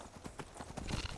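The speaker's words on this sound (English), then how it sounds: "We're taking the horse up the steps." Horse hooves in the Skyrim video game clop up stone steps in a quick, uneven series of knocks, close and fairly faint, with a short whinny-like burst near the end.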